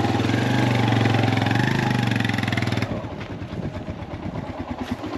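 A motorcycle engine idles close by with a steady throbbing putter, loud at first and then dropping to a softer, lumpier idle.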